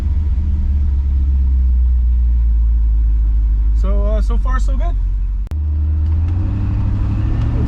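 A 1957 car engine with FiTech fuel injection, just reinstalled after a warranty replacement, runs with a steady low rumble and hum. Someone talks over it throughout, and the engine drops out for a moment before resuming.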